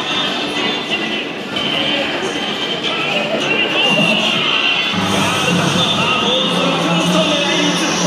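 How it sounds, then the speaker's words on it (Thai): An audience claps and cheers at an outdoor cosplay contest at Paseo Park in 2016, a sustained crowd roar that swells midway while a voice speaks over it through a PA. "ขอเสียงปรบมือด้วยค่ะ"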